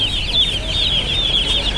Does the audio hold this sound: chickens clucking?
yes